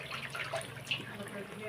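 Water poured into a pot of marinated chicken for biryani, a brief, continuous splashing trickle close by, with faint voices in the background.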